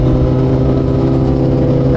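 A 6R big bike on Michelin Road 6 tyres hums under way, a loud, steady engine drone with stable pitched harmonics over rushing road and wind noise.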